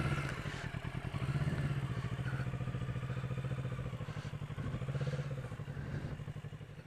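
A motorcycle pulling away slowly during low-speed riding practice, its engine putting out a steady, close, low-pitched thumping idle that rises and falls slightly.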